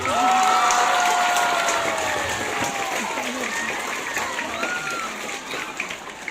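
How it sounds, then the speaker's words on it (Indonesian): Applause from an audience at a school Independence Day ceremony, full at first and slowly thinning, with a voice speaking over the clapping crowd. "Kemudian jangan lupa tepuk tangan buat Pak Domi dan teman-teman."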